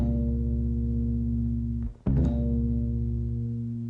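Bass guitar notes sustain and ring together without left-hand choking, a steady low tone that dips briefly to near silence, then a fresh attack rings on and slowly fades.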